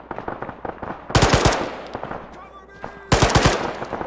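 Machine gun fire in the Arma military video game during a combat operation in Chernarus: two loud, close bursts of rapid shots, separated by quieter distant firing.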